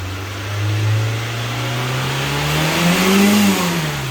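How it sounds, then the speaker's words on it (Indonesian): Used car's engine revved hard while its exhaust pipe is checked for smoke, a loud steady drone with the pitch climbing and easing twice over four seconds, with no talk. "Digas Mas Dimas."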